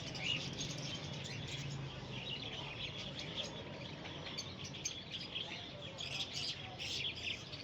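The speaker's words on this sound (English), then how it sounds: "each one filled with a different type of bird, creating an atmosphere unlike anywhere else in the city" Many caged birds chirp and tweet continuously at a busy bird market in Chitrali Bazaar, a dense, steady, moderately faint chorus of high calls with no clear talk.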